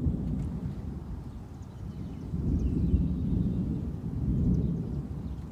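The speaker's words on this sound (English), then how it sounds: "Every time there was a flash, thunder would be pretty damn loud." Loud thunder rumbles through a severe July thunderstorm in Newburyport, Massachusetts, a deep continuous roar that swells and fades over several seconds with no voices.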